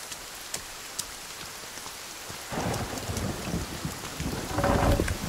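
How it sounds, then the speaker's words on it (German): A thunderstorm in the survival video game Sons of the Forest: steady rain hiss with a few sharp drops early on, then heavy rolling thunder building in two loud surges, with no talking. "Das Gewitter ist immer noch sehr, sehr laut, muss ich mal sagen."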